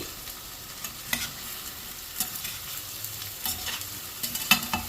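Plantain pieces frying in a pan, a constant soft sizzle broken by intermittent scraping and clinking as they are turned over with a spoon, no voices.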